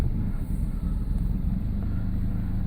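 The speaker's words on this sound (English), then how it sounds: "There you go, engine running, right about 900 RPM" A 1983 Volvo 240 engine idles at about 900 RPM with a steady, even low rumble. It sounds close and continuous, with no voices over it.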